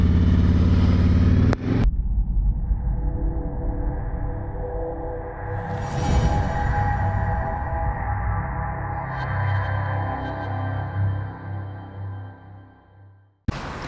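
A Harley-Davidson Road Glide Special pulls away under throttle, a loud, close engine rumble with deep low-end throb that builds steadily over several seconds, then drops away abruptly near the end amid wind roar.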